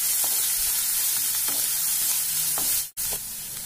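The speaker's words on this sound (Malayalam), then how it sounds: "നമുക്ക് ആദ്യം തന്നെ ഉള്ളി ഇതിലേക്ക് ഇട്ടുകൊടുക്കാം. അതിന്റെ കൂടെ തന്നെ പച്ചമുളകും കൂടി" Chopped onion and green chilies sizzling in a pan for semiya upma, a bright steady frying hiss with light stirring taps, cut by a brief dropout and then continuing slightly quieter.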